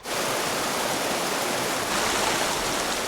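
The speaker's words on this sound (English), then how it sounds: "I had a small rapid to negotiate." River rapids rush in a steady, loud broadband roar of churning water where the current picks up speed on a canoe journey, with no voices.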